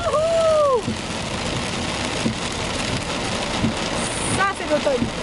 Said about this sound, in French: on vient de rentrer à la maison pile poil au moment où il pleut, mais vraiment